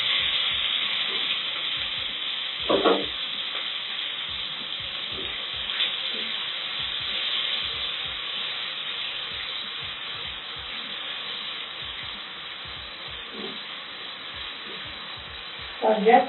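Plenty of onions frying for beef pilau in a pot at home, a steady close sizzle running throughout with occasional stirring scrapes and a few soft clatters.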